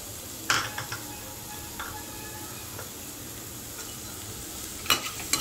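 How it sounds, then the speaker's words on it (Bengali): A spoon stirs dry fruit into a soft coconut and chhena stuffing, mostly a faint scraping murmur with a few sharp clicks of the spoon against the bowl. "ড্রাই ফ্রুটটাও সমস্ত কিছু ভালো করে মিশিয়ে নিচ্ছি।"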